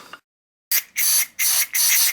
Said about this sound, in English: just I am spraying inside the parts